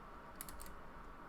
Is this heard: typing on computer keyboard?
yes